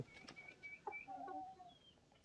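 Soft, fairly distant clucking from native country chickens in a poultry shed, several short warbling calls over a quiet background with no talking.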